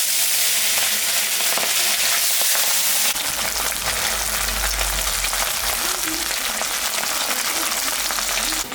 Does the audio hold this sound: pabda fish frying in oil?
yes